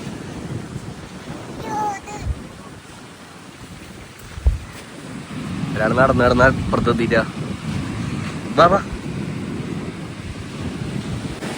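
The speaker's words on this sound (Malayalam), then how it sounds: "നിങ്ങക്ക് കടലിന്റെ ശബ്ദം കാരണം കേൾക്കണ്ടോന്ന് അറിയില്ല. ഭയങ്കര സൗണ്ടാണ്. അതുപോലെ തന്നെ നല്ല കാറ്റ്" Loud sea surf and strong gusting wind roar continuously on a flooded coast, buffeting the microphone, while people talk over it throughout.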